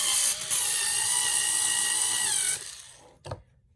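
A power screwdriver whines steadily for over two seconds, driving a screw into the damper of a Tamiya TT-01 Type E RC buggy kit. It then winds down and stops, followed by a short click.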